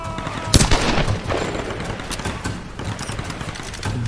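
Sharp gunshots ring out in a Tomb Raider video game, one loud crack followed by a few lighter shots spread across a busy game soundscape.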